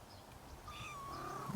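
A faint, drawn-out cat meow rises and falls in a thin wavering cry over a soft low rumble that could be purring, with no talking.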